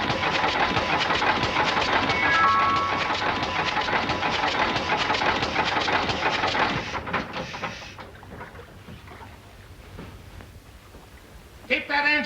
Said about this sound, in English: Keep that engine running.